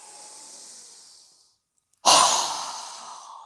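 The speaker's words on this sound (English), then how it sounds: "exhale with our mouth open wide with a strong exhale" Forceful open-mouthed exhale during a yoga breathing exercise, a sudden loud breathy rush of air that fades over about a second and a half, following a quieter drawn-out inhale and a brief pause.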